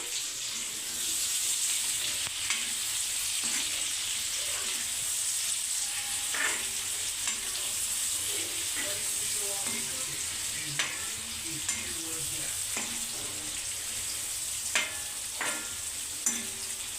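Liver and onions frying in a pan while being stirred, a soft continuous sizzle broken by occasional scraping and tapping strokes, fairly quiet and without any voices.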